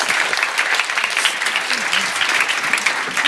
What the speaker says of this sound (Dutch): Geef haar een hartelijk applaus,